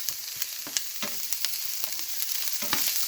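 Garlic sautéing in a pan for chicken afritada, a steady soft sizzle with scattered pops and crackles and occasional stirring scrapes, close and continuous for a few seconds with no talking.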